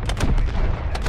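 A killstreak weapon in MWIII fires a fast string of little bolts, sharp repeated bursts close and loud for about a second.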